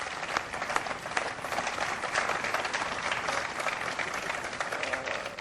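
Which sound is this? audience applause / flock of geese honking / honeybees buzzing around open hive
audience applause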